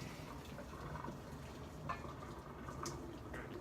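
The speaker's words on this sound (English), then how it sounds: "we're going to put all of the noodles through the strainer" Boiled Nissin Top Ramen noodles and their hot water poured through a strainer, a soft continuous watery rush and trickle with faint drips, fairly quiet and close.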